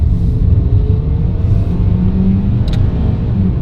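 A car accelerates hard from about 25 mph in first gear, its engine making a loud, close, continuous rumble that climbs steadily in pitch, with no talking.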